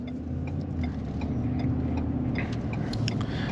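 A 2023 Ford F-150 Tremor's 5.0L V8 engine accelerating under light throttle, heard from inside the cab as a steady, smooth low rumble that holds even and continuous throughout.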